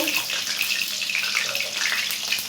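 Tap water pours steadily into a sink while fish is being washed, a loud, continuous splashing rush with no talking over it.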